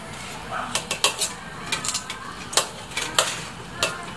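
Metal utensil scraping and clinking against a cooking pan as pieces of pork are flipped for dinuguan, irregular taps and scrapes, close and moderately quiet, no talking.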